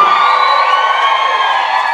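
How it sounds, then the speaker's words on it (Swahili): A church congregation shouting and cheering for joy during a worship service, a loud sustained roar of many voices with whoops, filling the whole moment without a break. "Wale tu wanaoamini hivyo, hebu wampe Yesu kelele za shangwe."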